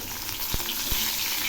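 Pieces of catla fish fry in oil with a continuous bright crackle and sizzle, with two soft thuds as the pieces are turned in the pan.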